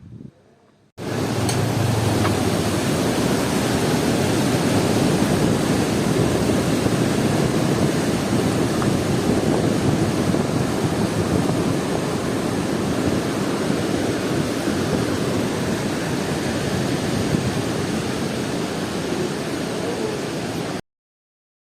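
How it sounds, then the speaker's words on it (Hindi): Flowing river water in the mountains near Naran, a steady, loud broadband rush that stays constant and uninterrupted throughout. "पानी की आवाज़ तो आपने सुनी होगी, बहता पानी भी बहुत सुकून देता है"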